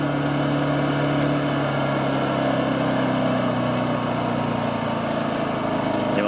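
A Honda EU2000i generator runs at a steady idle after being throttled down by remote control, a continuous mid-pitched engine drone with a faint hum, close and alone with no voices.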